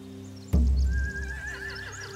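A horse whinnies loudly and close in The Walking Dead video game, a heavy thump followed by a long wavering neigh over a low steady ambience.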